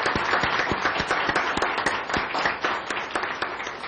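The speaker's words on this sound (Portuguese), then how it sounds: "pedir a esse plenário que possamos aplaudi-los pelo tempo dedicado a" A plenary audience at a legislative committee meeting applauds, a dense, steady wash of many hands clapping at moderate loudness, heard from within the room.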